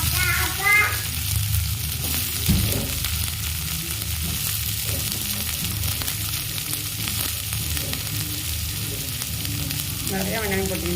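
Finely chopped big onions sautéing in a pan for paniyaram, a loud, continuous sizzle with occasional stirring scrapes, close and steady throughout.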